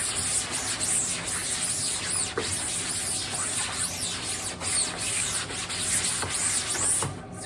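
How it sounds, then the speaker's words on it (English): A sponge loaded with emulsion remover is scrubbed across a wet screen-printing screen, making a continuous, close, rasping rub with rhythmic back-and-forth swells, alone and without talk. "Scrubbing it."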